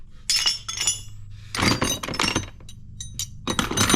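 Old metal chisels and junk wrenches clinking as they are handled, bright metallic clanks and jangles in several short bursts separated by near silence.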